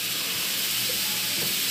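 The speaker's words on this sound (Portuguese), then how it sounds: "Ignora essa panela de pressão, pelo amor de Deus." Steam hisses steadily and loudly from a pressure cooker on a home kitchen stove, a continuous bright rush with no pauses.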